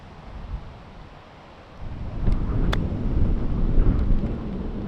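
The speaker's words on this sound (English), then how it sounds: "This is how windy it was out there today." Strong gusting wind blasts across an open golf course, buffeting the microphone with a low roar that swells louder about midway and stays rough and turbulent, with no talking.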